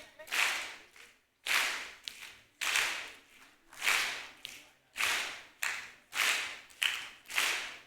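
At the BTC 2024 opening ceremony, a large audience claps together in a steady rhythm, about eight loud, evenly spaced crowd claps, each ringing briefly in the hall.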